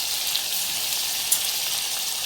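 Ground masala frying in hot oil for Marathi katachi amti, a steady close hiss and crackle of sizzling with no voices.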